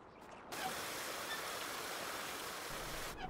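Water pouring into a pig trough in the farming game Farming Simulator 19, a steady rushing splash that starts abruptly, runs evenly for about three seconds, then cuts off.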